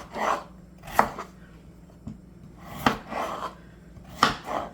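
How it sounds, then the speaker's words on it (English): A knife chops potatoes into chunks on a cutting board, making four or five distinct, close thunks at an uneven pace with quiet pauses between them. "I'm just gonna cut the potatoes in chunks."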